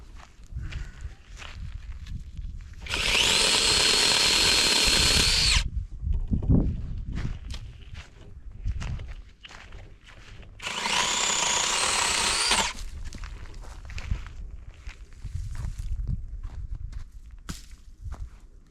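A Seesii 8-inch mini handheld electric chainsaw whines in two loud, high-pitched bursts of a few seconds each while trimming branches, separated by rustling, footsteps and handling noise outdoors.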